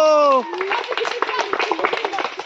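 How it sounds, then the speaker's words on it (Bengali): Village children break into a burst of dense, fast clapping for a boy after his turn in a game, the lively applause following a brief voice and continuing steadily. "হাততালি হৃদয়ের জন্য"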